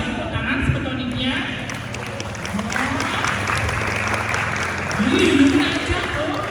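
A theater audience applauds at a Balinese Calonarang performance held for an anniversary celebration at Gedung Mario. The clapping is a dense, continuous wash that swells near the end, with voices talking over it throughout.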